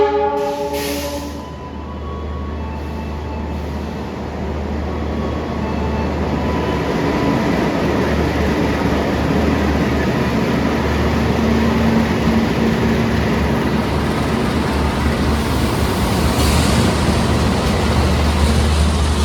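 The Bima passenger train rolls in at platform 1 of an Indonesian station, a steadily building rumble and rattle of rail cars drawing near, with a brief horn early on.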